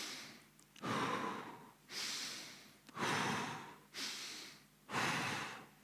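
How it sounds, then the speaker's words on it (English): A conference speaker on stage breathes heavily into the microphone, five loud, regular breaths with slow rising and falling swells, close and alone with no talking. "You may hear my breathing."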